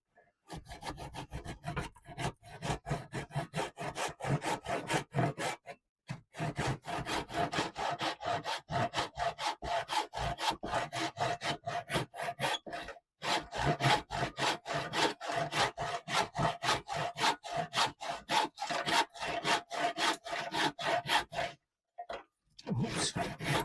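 A hand saw cuts wood for a cat bench in quick, steady back-and-forth strokes, close and loud, with short pauses near the start, middle and end.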